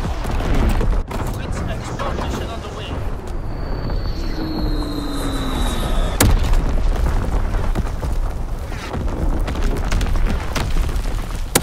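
An artillery barrage in Call of Duty: WWII rumbles with dense, continuous booms and blasts, loud and heavy throughout, with radio voices speaking over the bombardment.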